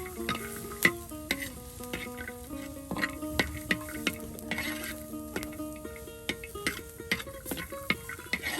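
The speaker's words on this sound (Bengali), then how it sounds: "এখন পেঁয়াজ রসুন বেজে নেওয়া হবে" Onion and garlic fry in a pan at a village cook's stove, a steady sizzle under frequent stirring clinks and scrapes of a spatula against metal, close and continuous.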